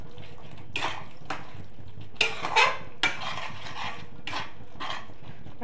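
Spatula scraping and clinking in a pan while stirring and mixing paneer gravy, a series of irregular metallic scrapes with quiet pauses between.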